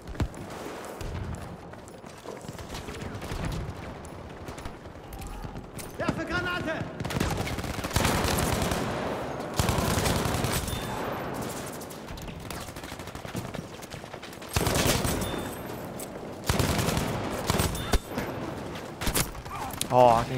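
Bursts of automatic gunfire and fusillades ring out in a Battlefield 5 Conquest match, coming in loud clustered volleys with short gaps between them and dense battle noise underneath, and a voice speaks at times.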